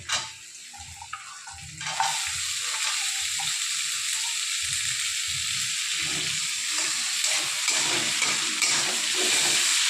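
Leftover rice sizzles and hisses steadily in a hot pan while it is stirred and chopped beans and carrots go in, with rhythmic scraping strokes under the continuous frying noise.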